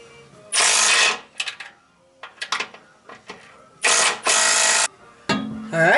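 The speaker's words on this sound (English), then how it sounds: "I'm going to clamp the muffler down here." Ratchet tightening a clamp on a replacement exhaust muffler under a car, loud bursts of rapid clicking separated by short pauses and softer clacks, with no talking.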